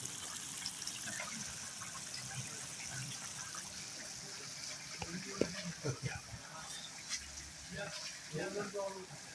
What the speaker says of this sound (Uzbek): Ko'klar asta chiroyli qaynayapti.